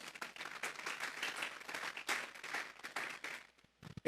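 A church congregation claps in a lively burst of applause that holds steady for about three seconds, then quickly dies away into silence.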